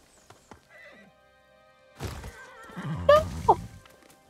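A horse in the Ghost of Tsushima video game trots up with clip-clop hooves, then gives a loud, close whinny, in a game mix with quiet stretches before it.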